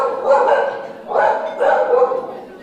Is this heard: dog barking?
yes